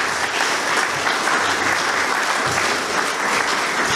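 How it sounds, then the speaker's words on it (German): A crowd at a political party speech breaks into sustained applause, a dense, steady wash of clapping that holds at even loudness for several seconds with no voice over it. "Applaus"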